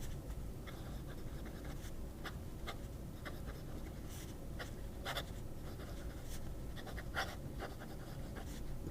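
A fountain pen nib scratches across paper, making faint, close, irregular strokes and taps over a steady background hiss, with no talking.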